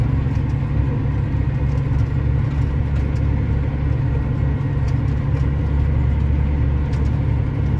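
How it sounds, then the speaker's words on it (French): An older car rolls past at a car show, its engine a steady, loud, low rumble that holds constant throughout with no speech. "Là c'est une un peu plus vieille voiture."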